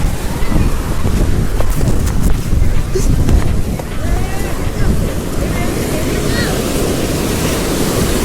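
Sea waves and wind at the seashore at Bateswar during a picnic: a steady, loud roar of surf with wind buffeting the microphone throughout and voices faint in the background.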